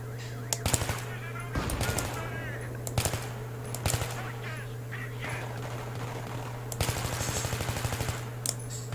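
Bursts of automatic gunfire in the Battlefield 3 video game, several sharp volleys spaced across the clip over a steady engine-like drone, with voices talking in between.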